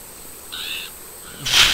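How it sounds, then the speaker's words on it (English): A crow calling in the video game Infestation, a short raspy cry over quiet background, followed by a louder hissing burst at the end. "That crow scared the crap out of me."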